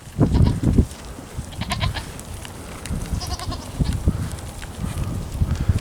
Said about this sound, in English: this is one skittish goat being absorbed by 14 goats that aren't skittish